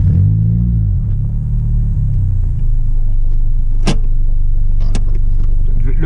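A parked Honda del Sol idles in neutral with its engine running, a close, steady low rumble with a couple of sharp clicks and knocks partway through.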